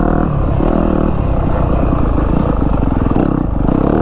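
Yamaha YZ250F four-stroke dirt bike ridden through woods, its engine loud, close and continuous with a throbbing pulsing note and small rises in revs, wind buffeting over it.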